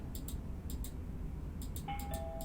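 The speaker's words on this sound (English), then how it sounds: "I'm ringing the doorbell." A doorbell in the video game Within chimes in short repeated double tones over a low steady background hum, quiet and clear, followed by a sustained ringing tone near the end.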